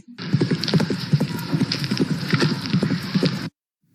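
Galloping horse hooves played as a staged sound effect in a school stage production of Beauty and the Beast, a rapid, even clip-clop rhythm, loud and close, that stops abruptly.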